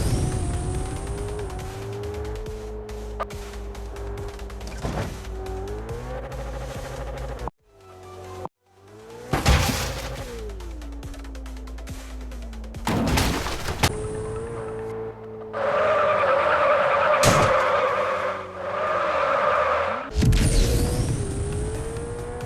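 A car in the MadOut2 video game drives at speed, its engine droning steadily with pitch shifts as it revs, broken by brief whooshes and a loud rushing stretch like tyres skidding, all continuous and up close.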